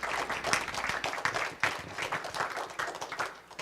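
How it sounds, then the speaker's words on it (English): An audience at a career panel applauds the panelists with sustained, dense clapping that stays fairly even throughout, heard at a moderate distance in a room. "Can we have a big round of applause for our panelists?"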